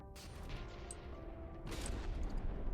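A rotating gun turret fires in a game, giving a rapid run of heavy booming shots that blend into a continuous loud barrage.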